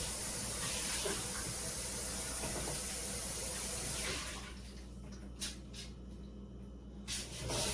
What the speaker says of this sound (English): Now I'm going to rinse this out because I'm going to beat up my egg in it.